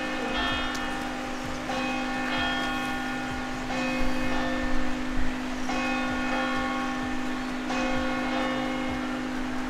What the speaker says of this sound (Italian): Avete sentito le campane?